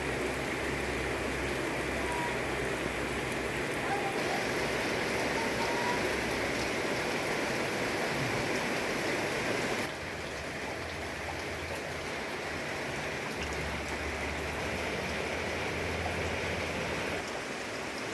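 Steady outdoor rain falling during planting of water spinach in a village garden, a dense hiss of drops on surfaces that continues unbroken, easing slightly partway through, with faint low rumbles underneath.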